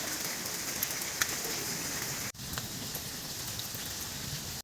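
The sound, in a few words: rain falling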